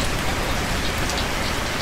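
Rainfall in Plane Mechanic Simulator keeps up a constant broadband patter on surfaces, loud and uniform with no breaks or thunder, heard alone without speech.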